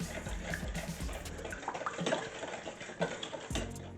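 Boiling water splashes into sugar in a bowl, followed by stirring, with a steady liquid rush and scattered clinks and scraping close by.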